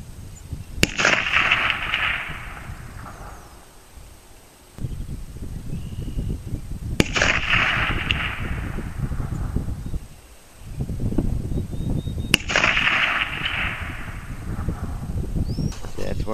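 Three rifle shots fired at a 250-yard target with Lee 150 grain flat nose cast bullets from a clean bore, each a sharp loud crack with a short rolling echo, spaced about six seconds apart over steady outdoor wind noise.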